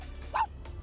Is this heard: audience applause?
no